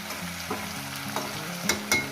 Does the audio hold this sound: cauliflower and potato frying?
yes